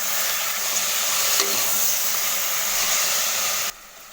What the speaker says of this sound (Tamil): போட்டு தக்காளி நல்லா குழையிற அளவுக்கு நல்லா வதக்கிடுங்க.